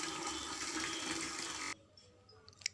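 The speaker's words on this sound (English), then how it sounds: "Now for washing, I'm going to fill half a bucket of water" Water gushes into a bucket being filled halfway for washing a large teddy bear, a loud steady rushing pour that cuts off abruptly, followed by quiet with a few small clinks.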